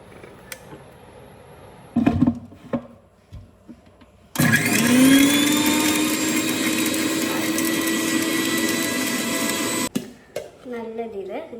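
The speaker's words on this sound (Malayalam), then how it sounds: "പേസ്റ്റായിട്ട് നമ്മളിത് ഗ്രൈൻഡ് ചെയ്തെടുക്കുക" A mixer grinder whirs loudly and steadily for about six seconds, blending green paste for paneer with vinegar and plain coconut oil, after brief clatter and handling sounds before it and a voice starting to speak once it stops.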